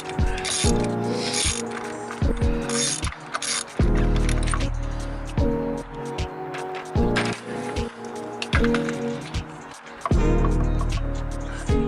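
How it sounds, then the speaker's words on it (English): A ratchet on a deep socket clicks in repeated bursts while spark plugs are backed out of an engine, sharp metallic pawl ticks broken by brief pauses and clinks, close and clear. "you need to start taking out your spark plugs"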